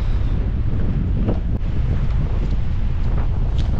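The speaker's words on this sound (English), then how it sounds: "The wind is blowing" Steady, gusty wind buffets the microphone on a cold, rainy English beach at Burgh Island, with a rough sea nearby. The roar is continuous and loud throughout, with no one talking.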